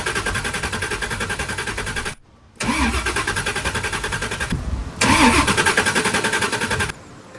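A car engine cranks over and over without catching, two long bursts of rapid starter churning separated by a short pause, close and loud, then stops; nobody speaks.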